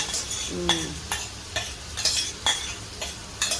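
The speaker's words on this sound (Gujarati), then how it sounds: "જો ગ્રેવી નાખી દીધી પાલકની" Spinach gravy sizzles in a frying pan while a utensil stirs it, giving steady frying hiss with regular scraping strokes roughly every half second, close and without speech.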